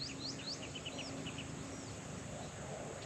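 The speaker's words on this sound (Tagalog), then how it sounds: "yung mga huni ng mga ibon." Small birds chirp in the countryside: quick, faint twittering calls in the first half, then a single thin call, over a steady outdoor hiss with no talking.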